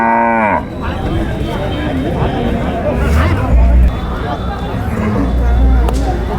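Cattle at the Mudalagi bull market give a loud, close moo at the start, then the lowing gives way to a dense crowd babble of traders talking over one another.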